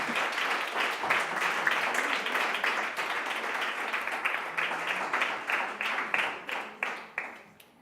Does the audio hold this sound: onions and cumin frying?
no